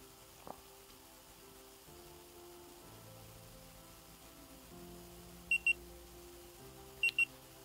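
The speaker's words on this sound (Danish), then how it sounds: "Når en alarm starter, starter alle alarmer, men der er forskel i lyden" Housegard Origo wireless smoke alarms give short, sharp high beeps in two quick pairs, spaced well apart, over faint background music.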